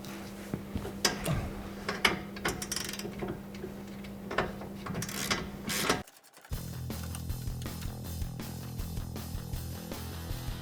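A ratchet tightens bolts while rock sliders are installed on a 2005-onward vehicle: a steady run of close mechanical clicks, with a brief silent break in the middle before the ratcheting resumes.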